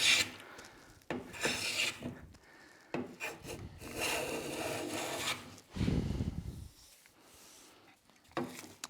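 A freshly sharpened hand plane shaving pine, giving repeated close, breathy rasping strokes of varying length with short gaps between passes.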